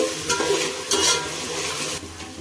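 Sliced onions with salt fry in a pan, a close, bright sizzle that runs continuously while a utensil stirs and scrapes at a few points, with no talking.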